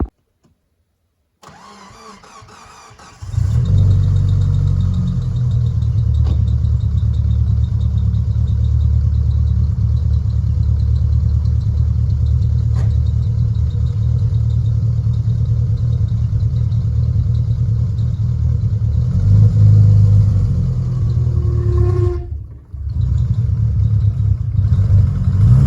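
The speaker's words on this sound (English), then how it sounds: "So let me hop in, start it, and see what she does." A Mitsubishi EVO 4 engine cranks, catches after a couple of seconds and settles into a steady, loud idle, with a slight rise in revs near the end and a brief dip before it resumes.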